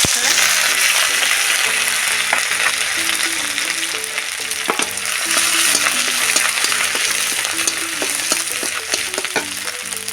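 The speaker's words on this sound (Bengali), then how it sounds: "লঙ্কাটা আমি তেলের উপরে একটু ভেজে নেব।" Spices and ginger fry in hot oil, a steady close sizzle running throughout with scattered light clinks and stirring scrapes of a utensil in the pan.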